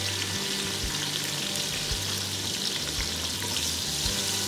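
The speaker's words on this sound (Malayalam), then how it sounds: "ഉള്ളി ചേർത്തത് നല്ലോണം നന്നായി വഴറ്റിയെടുക്കണം" Sliced onions with salt sautéing in a pan for Malabar-style pirichor make a steady, close, dense sizzle with crackling. The sound holds constant throughout and no one speaks.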